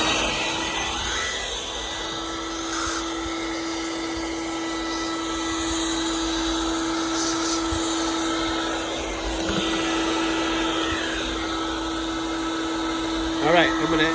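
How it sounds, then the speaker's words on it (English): A vacuum cleaner runs steadily close by, sucking dust from the rear brake area of a Honda Odyssey during a brake pad job, a loud continuous whine with a little clatter near the end. "Now, I'm going to vacuum this."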